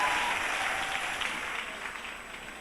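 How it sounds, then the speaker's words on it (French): A church congregation applauds and acclaims during a charismatic worship service, a steady crowd clapping that starts fairly loud and fades gradually over a couple of seconds, with no speech on top. "Est-ce qu'on peut donner des acclamations au Seigneur?"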